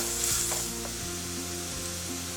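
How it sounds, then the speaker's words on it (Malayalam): Chopped onion sautés in a pan, a loud continuous sizzle with brief stirring scrapes early on, steady and close with no talking. "ഈ സവോള ഒന്ന് സോഫ്റ്റ് ആവുന്നവരെ വഴറ്റിയെടുക്കുക."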